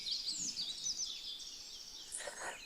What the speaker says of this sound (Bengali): পাখির ডাকগুলো সকালবেলা শুনতে অনেক